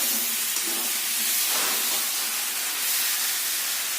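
Flat beans frying with ground peanut paste in a pan, a bright, steady sizzling hiss up close that swells slightly midway and continues without pause.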